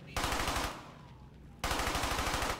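A Thompson submachine gun fires in the Brothers in Arms: Hell's Highway video game, two loud, rapid bursts of automatic fire separated by a brief quieter gap.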